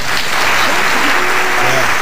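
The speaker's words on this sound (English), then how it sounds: "There's the applause, and you can see right off it's quite a bit louder than the rest of the show here." Loud recorded applause from a show, a dense, continuous wash of many hands clapping at once, steady and unbroken throughout with no speech.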